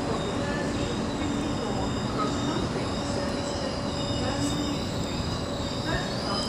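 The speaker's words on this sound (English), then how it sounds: "we've got another Azuma approaching" An Azuma high-speed train rumbles steadily nearby as it approaches a platform at Peterborough on the East Coast Main Line, with wheels squealing and a continuous roar of rolling carriages, and a faint voice in the background.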